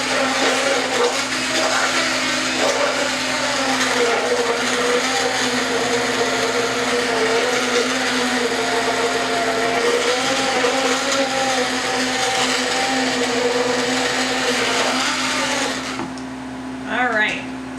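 A blender whirs steadily for about fifteen seconds, mixing home-grown aloe vera gel into a foam, then cuts out to quiet handling noises, with a voice talking over it.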